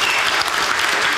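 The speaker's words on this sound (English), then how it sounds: "So can we have a massive round of applause" Dense, sustained applause from a large audience for a woman introduced on stage, loud, continuous clapping filling the room with no break.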